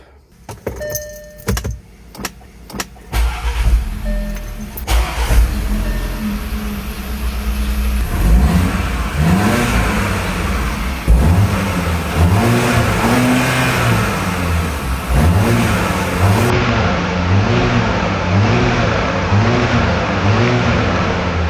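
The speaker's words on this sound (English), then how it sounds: "This turbo engine is alive, and now with the new chain running with perfect timing with no risk at all" Turbocharged Audi Q5 SUV engine, freshly rebuilt with a new timing chain, cranking after several clicks and clunks, catching and settling into a loud, steady idle with rhythmic pulsing revs close by.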